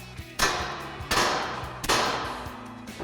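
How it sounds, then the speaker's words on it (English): Three hard, ringing metal blows from a hammer knock the upper ball joint loose from the steering knuckle of a 2021-2023 Ford Bronco during a front leveling kit install. The strikes are close and evenly spaced, with no talking. "we are going to give it a few whacks with a hammer"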